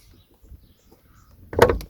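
A Ford Focus ST car door swings open and shuts with a solid thump, close by, after a few quiet shuffling sounds.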